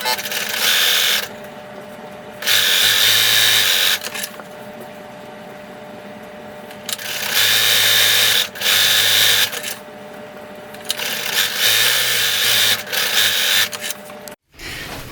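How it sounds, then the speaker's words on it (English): A machine serges a seam in jersey knit fabric for a hair towel wrap, loud close whirring bursts starting and stopping repeatedly, several runs of a few seconds each separated by quieter pauses. "So I'm going to sew the seam with either a zigzag or I'm going to serge it."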